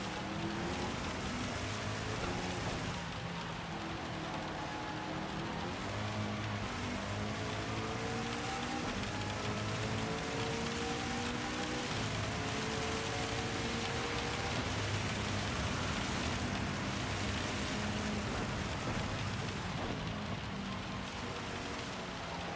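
Heavy rain pours in the racing game Gran Turismo 7, a dense, constant hiss mixed with the drone of car engines running throughout.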